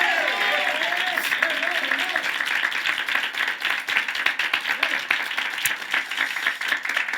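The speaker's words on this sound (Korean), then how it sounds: "우리 먼저 하나님께 박수로 영광 돌리겠습니다" A church congregation at a Sunday morning service claps together in a lively burst of rhythmic applause, with a voice speaking over the clapping near the start.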